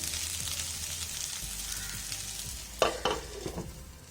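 Potatoes fry in a pan for a crispy pepper potato fry, a steady close sizzle throughout, with a few sharp scraping stirs of a spatula toward the end.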